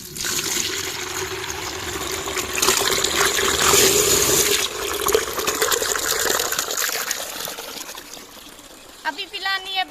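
Water gushes and trickles as it is poured for goats to drink, a sustained splashing stream that swells in the middle and tapers off, with a voice talking over it.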